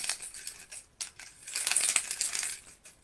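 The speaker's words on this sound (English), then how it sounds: "It was actually the keys to the chapel." A bunch of metal chapel keys jangling and clinking in short bursts, close and fairly quiet, with a busier stretch of shaking in the second half.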